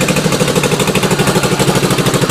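A Honda ATC 185S three-wheeler engine idles alone at close range, a rapid, even chugging pulse with a rough mechanical rattle over it.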